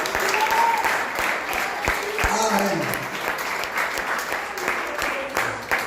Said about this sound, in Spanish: Un aplauso a Jesús fuerte.